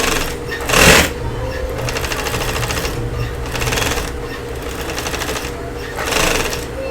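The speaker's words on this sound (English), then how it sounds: "We're going to stitch this from the knots wherein we're gonna start the stitching of gathered sleeve." A sewing machine stitching a gathered puff sleeve, running in steady bursts of rapid mechanical whirring and needle clatter, with brief pauses and a louder thump near the start.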